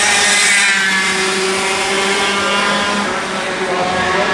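Racing karts roar past at the Rock Island Grand Prix, a loud continuous high engine whine with shifting pitch as several karts pass close by, with no talk over it.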